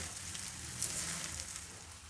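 Cooked rice being mixed in a hot sizzling pan for coriander rice bath, with a continuous close frying hiss and faint soft stirring movement throughout.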